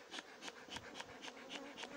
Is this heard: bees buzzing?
yes